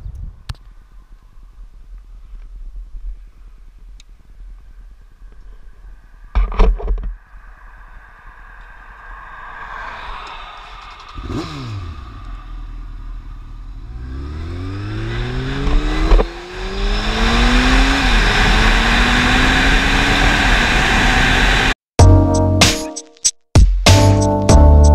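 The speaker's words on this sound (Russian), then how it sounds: "вместе с вами прокатимся на этом мотоцикле, посмотрим, что он может" Honda CBR 900 RR sport motorcycle ridden hard, engine note climbing through rising pitch sweeps as it accelerates through gears, growing louder toward a sustained roar with wind buffeting and brief dropouts near the end.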